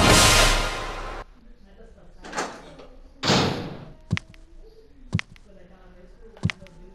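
Door opening in the Resident Evil 1 mansion as a Hunter comes through, a loud broadband burst followed by further swishing bursts and several sharp thuds, with speech faintly present.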